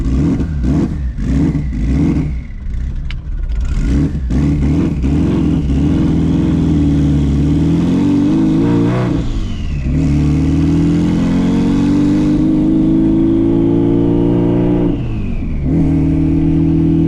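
Twin turbo Subaru engine running and revving up and down while driving, a loud continuous close-range drone with repeated climbing pitch sweeps and brief throttle lifts.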